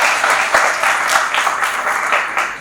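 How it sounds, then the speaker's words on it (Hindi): A crowd at a business seminar breaks into loud applause, a thick, continuous patter of many hands clapping nearby with small swells throughout. "मैडम के लिए जोरदार तालियां बजाइए."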